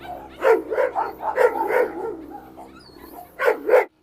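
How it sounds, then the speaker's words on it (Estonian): Two Rottweilers bark and growl, with several loud, close barks in a rapid cluster, a lull filled by low rumbling growls, and then another pair of sharp barks, without talking. "Nad urisevad"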